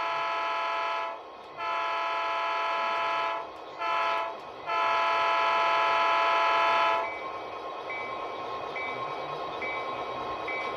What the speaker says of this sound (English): Now when you hold the longhorn sound effect